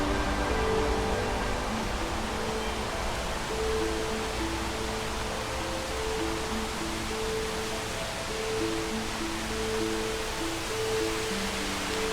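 Steady roar of Hole-in-the-Wall Falls, a waterfall in the Columbia River Gorge, heard as continuous broadband rushing water at even loudness throughout, with a faint low hum underneath and no voices.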